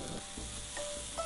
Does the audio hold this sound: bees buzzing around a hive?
no